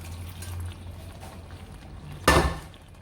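A brief burst of water pouring into a pot of egusi soup, following a quiet low hum, lasting about half a second.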